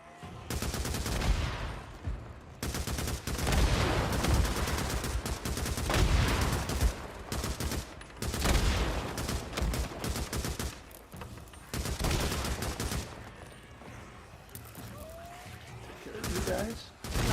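Repeated volleys of gunfire from Days Gone blast against a zombie horde, loud sustained bursts broken by short pauses, with a player's voice occasionally heard under the shooting.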